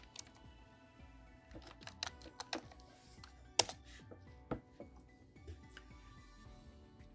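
Fingers type on a computer keyboard in a quiet room, making soft, irregular clicks and taps with a few sharper key strikes spread over several seconds.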